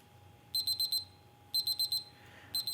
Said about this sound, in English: that is my thermometer going off